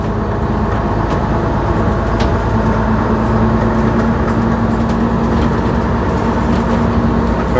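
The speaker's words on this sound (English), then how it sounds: "Lovely old bus noises as well" A 1958 Leyland Atlantean bus engine runs steadily with a low, constant drone and rumble heard from inside the vehicle, the engine mounted far behind and fairly subdued.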